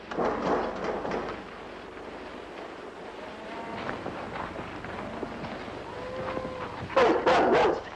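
A dog barks in a few short bursts and whimpers faintly near a vehicle in a 1960 western setting, with a louder cluster of yips near the end.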